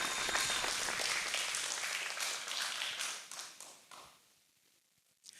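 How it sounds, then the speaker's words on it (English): Studio audience at a televised vocal competition semi-final applauds the contestants, dense clapping that is loud at first, thins and fades, then a brief flare at the end. "Ladies and gents, please give a big round of applause for Posa, Anthony, Judith,"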